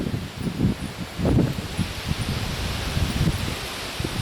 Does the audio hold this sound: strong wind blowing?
yes